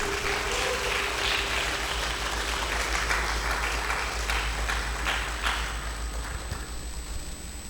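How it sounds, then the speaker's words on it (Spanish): Church congregation applauding, a dense, steady wash of clapping from many hands that holds throughout and eases off slightly toward the end. "Dale un aplauso al Señor."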